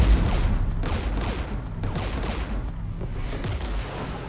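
Anti-aircraft guns firing in Mass Effect 3 near a Geth jamming tower, a dense, continuous volley of heavy booming shots at a rapid, uneven rhythm, loud and close.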